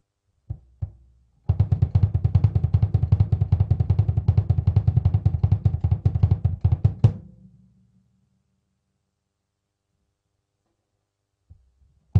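Rapid, even bass drum strokes played with a heel-toe foot technique in a fast continuous roll for several seconds, close and punchy, then silence with a couple of isolated kicks.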